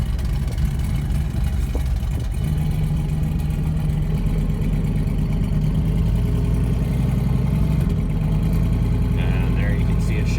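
A car with a rebuilt 4L60E automatic transmission and new shift kit drives along, its engine a loud, steady drone that shifts slightly in pitch, with a person talking over it.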